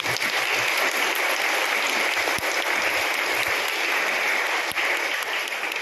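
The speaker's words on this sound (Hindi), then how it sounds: "माताओं के लिए हम लोग जोरदार थाली बजाएंगे।" Loud, steady clatter of many metal thali plates banged together by a crowd at a St. Monica feast day celebration, a dense continuous din lasting throughout with no talk.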